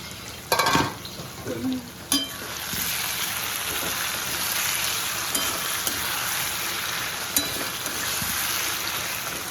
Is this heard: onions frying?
yes